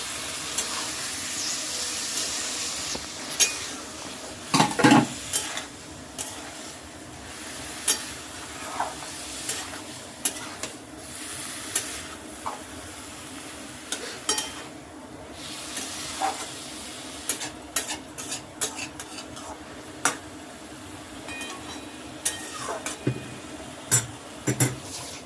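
Mocha coffee stirred in a pot on a stove, with low steady hiss and faint sizzling, broken by scattered light scraping and clinking strikes of a spoon against the pot at irregular intervals.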